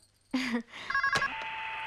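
A home telephone rings in a Bollywood romantic film scene: a brief voice, then faint warbling electronic ring tones followed by a steady tone, with the room otherwise quiet.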